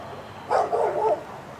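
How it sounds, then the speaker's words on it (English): A short burst of dog barking, two or three quick barks run together, moderately close against a quiet outdoor background at night near Los Angeles. "My neighbor's dog is barking because I'm out here."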